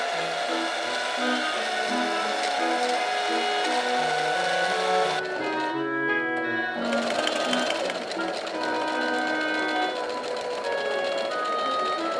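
A sewing machine runs steadily, stitching a long skirt seam for a maid of honor dress, with a brief pause midway before the motor resumes; loud and close throughout.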